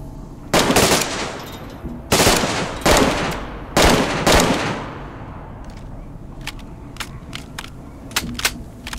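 Automatic machine-gun fire in the video game DayZ comes in three long, loud bursts of rapid shots. Fainter, scattered single shots follow in the distance.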